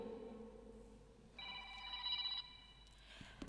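A telephone rings in a church setting, a short burst of steady electronic tones lasting about a second, moderately loud against a quiet room with faint murmuring before and a few clicks after.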